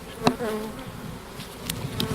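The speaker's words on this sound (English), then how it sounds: "as you can hear, the bees are buzzing away quite happily" Honeybees buzz steadily inside an opened hive during a spring inspection, a close, continuous drone with a few louder passes as bees fly near.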